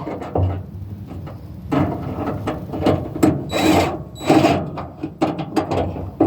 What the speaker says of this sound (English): So I'm going to put it almost at the end of the threaded part of this rod and tighten it.